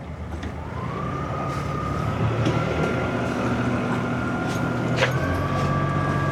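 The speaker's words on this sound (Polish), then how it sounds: "Ładny dźwięk tutaj mamy. Silnika." The engine of a used yacht with a three-blade propeller runs at about 1500 rpm while being shifted into reverse: a steady, close mechanical drone with a thin whine that rises early and then holds through the end.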